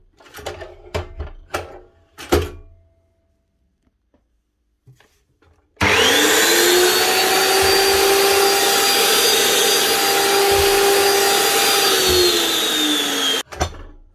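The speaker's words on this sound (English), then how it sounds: "One Evolution cutoff saw with a working guard again." An Evolution S355 CPS cutoff saw, freshly repaired with a working guard, starts with a sharp jump to a loud steady motor whine, runs for about seven seconds, then cuts off; a few knocks and handling thumps come before it.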